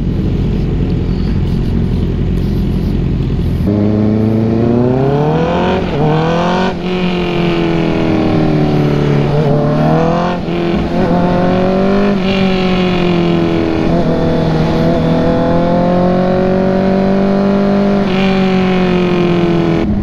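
A Honda CBR650R sport bike engine revs hard, pitch sweeping up and down through repeated throttle blips and sustained climbs, loud and close for about twenty seconds with no talking.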